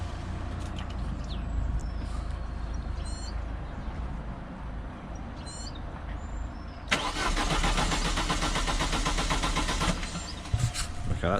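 A Vauxhall Astra VXR engine cranks over without firing, a continuous mechanical whirring from the starter that stays steady and close, with faint birdsong in the background and no speech.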